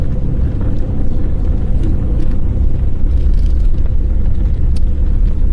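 A truck engine idles steadily, a loud, continuous low rumble holding even from start to finish with no voices over it.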